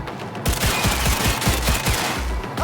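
Automatic gunfire in Cyberpunk 2077, a loud rapid burst of repeated shots starting abruptly and rattling on without pause.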